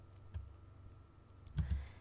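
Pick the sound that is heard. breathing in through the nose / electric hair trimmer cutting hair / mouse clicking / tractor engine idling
mouse clicking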